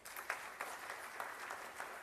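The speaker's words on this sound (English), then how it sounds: "Give yourself a big round of applause." An audience at a school valedictory ceremony claps in sustained, even applause, a dense patter of many hands heard from some distance with no voices over it.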